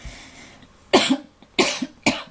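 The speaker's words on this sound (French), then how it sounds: "je tousse encore" Three sharp coughs in quick succession, close and loud, with a short pause before the last one and no talk.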